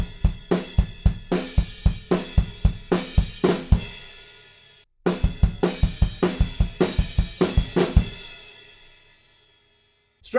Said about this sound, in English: which is snare drum and crash cymbal together